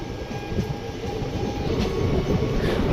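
A goods train hauled by a WDG4 diesel locomotive rolls past close by, a loud, continuous rumble of wagons with faint wheel clatter and a thin metallic whine throughout.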